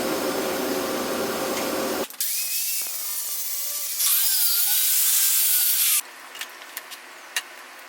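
An abrasive cutoff wheel grinds through 3/16-inch steel plate, cutting the roof-line contour for a 3rd-gen 4Runner roof rack. A loud, steady whine holds for several seconds with pitch shifts, then stops, leaving a few faint knocks.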